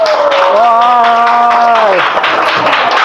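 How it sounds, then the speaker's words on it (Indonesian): A classroom of students applauds a classmate with loud, dense, continuous clapping while a voice speaks over it at first. "Tepuk tangan untuk teman kita."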